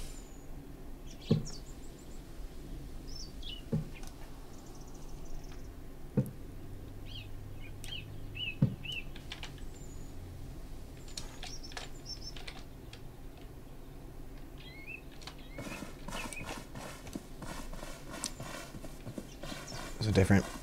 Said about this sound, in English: footsteps for different materials. Rock, sand, and grass. I also have snow.